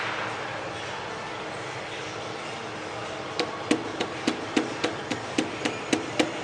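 A piston is tapped down into a cylinder of a 2007 Subaru Impreza engine in a shop. About a dozen sharp, evenly spaced knocks begin halfway through over a steady background hum.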